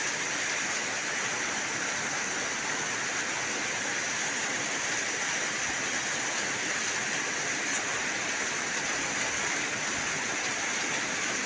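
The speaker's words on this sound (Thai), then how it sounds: "อีสานบ้านเฮานี่ฝนตกลิน อยู่ตอนนี้ครับ" Steady, heavy rain pours down in northeastern Thailand (Isan) in a constant dense hiss, loud and close, with no pauses and no voices.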